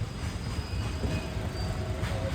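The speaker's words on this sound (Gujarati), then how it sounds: "જો ટ્રેન નીકળી છે અમારે તો વાહ" A freight train rolls past nearby with a steady low rumble and faint metallic squeals, continuous throughout with no talking.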